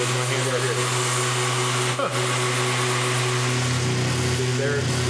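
A random orbit sander runs steadily on wood with its dust extraction vacuum attached, giving a loud, continuous whirring drone with a strong low hum and broad hiss throughout, and a person speaks over the machine.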